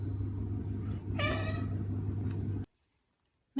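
A Maine Coon cat gives a single clear, drawn-out meow from close by, over a steady low rumble, before everything cuts to silence.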